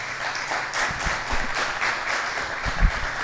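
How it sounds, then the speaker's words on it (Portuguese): A podcast audience applauds guest Marcus Preto, a dense, even wash of clapping that runs the whole way through with no talk over it. "Marcos Preto, palmas"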